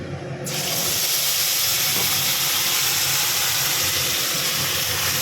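A ginger, garlic, onion and tomato spice paste hits hot oil left from frying bhetki fish, setting off a sudden loud, sustained sizzling hiss that stays close and steady.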